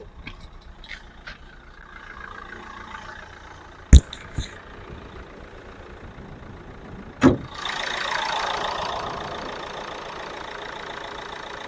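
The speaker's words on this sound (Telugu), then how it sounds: "ఇంజన్ చూసుకున్నామండి ఒకసారి." A Renault Duster RXZ engine idles steadily at low volume, broken by a couple of sharp knocks or clunks before a louder broadband rush of engine or fan noise rises near the end.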